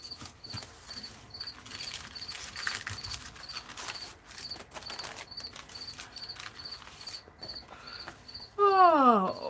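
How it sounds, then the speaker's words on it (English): A cricket chirps indoors in steady, evenly spaced pulses throughout, fairly loud against a quiet room with scattered rustling, and a brief whistling, sweeping sound rises near the end. "Boy, that cricket is singing up a song."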